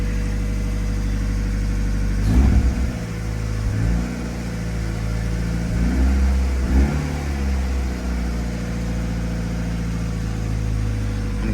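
Mazda Miata engine running just after a slow start-up, with FAB9 Tuning coil packs fitted: a steady, close idle hum with a few brief rises and dips in revs across about eleven seconds, no voices.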